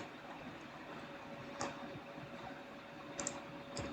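Computer keyboard used while drafting in Archicad, giving a few faint, sparse clicks and key taps over a quiet room hum, with no voice.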